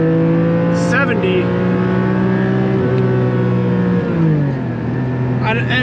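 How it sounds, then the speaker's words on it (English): A Porsche 718 Spyder engine revs out in second gear with a loud, rising harmonic roar that briefly drops, then climbs again, heard from inside the car with strong engine tone throughout. "I wasn't giving it the gas there. I was just letting it rev out."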